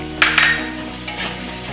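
Ground prawn heads stirred and fried in oil in a pan, close scraping stirs with a soft crackling sizzle underneath, two brief bursts of spatula movement, no talking.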